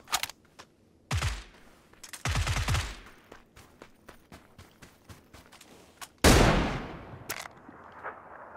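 Rapid bursts of gunfire from a shooter video game, several sharp volleys and single shots spread across the clip at moderate level, with faint clicking between them.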